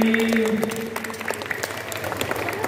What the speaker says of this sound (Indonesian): Oke, tepuk tangan dong semuanya buat filmnya tadi.